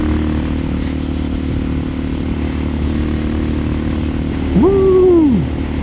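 Steady droning engine of a Suzuki DR650 dual-sport motorcycle with wind rush while riding, and a brief rising-and-falling vocal whoop near the end.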